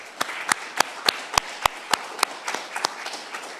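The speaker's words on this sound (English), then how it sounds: "Let's give them all a round of applause" Sparse, scattered clapping from a small audience at a membership meeting, about a dozen distinct sharp claps at an uneven rhythm, fairly faint, with no talk over it.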